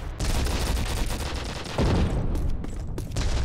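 Rapid game gunfire in Call of Duty United Offensive rattles continuously in dense bursts, with a heavier blast midway and a few sharp crisp shots near the end, loud and close.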